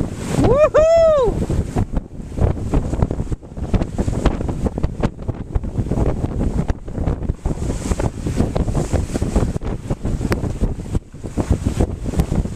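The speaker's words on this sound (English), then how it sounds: "Now that's what I call sailing." A sailboat runs before strong wind on open water, with heavy gusting wind buffeting the microphone, rushing water and waves along the hull, and a brief whistle-like whoop near the start amid scattered voices.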